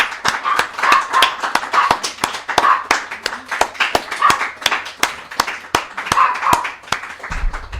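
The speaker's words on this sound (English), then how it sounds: "This group is the only one that exists and deserves a great big applause." Sharp, evenly spaced handclaps beat a steady rhythm, about two per second, close and distinct, with voices murmuring underneath.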